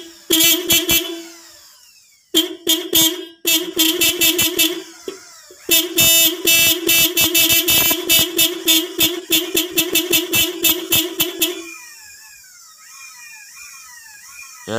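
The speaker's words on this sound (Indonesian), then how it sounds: "di sini bisa kita lihat untuk klaksonnya bisa dipastikan masih hidup" Horn of a Toyota Kijang under repair, tested by wiring it directly: loud, close blasts and rapid bursts of honking in stuttering on-off pulses, then a fainter wavering electronic tone near the end.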